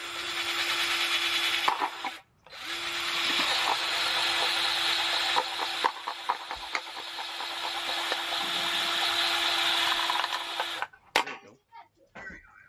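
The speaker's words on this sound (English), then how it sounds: "make some holes in the bottom of the cup" A power drill bores holes through the bottom of a plastic cup in two long, steady whining runs with a brief pause between them. It ends in a few clattering knocks, close and loud.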